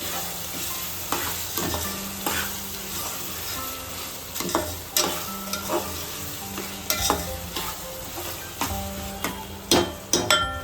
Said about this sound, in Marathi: अद्रक लसूणची पेस्ट आहे ती टाकून घेऊया याच्यामध्ये. आता ही छान आपण परतून घेऊया तेलामध्ये.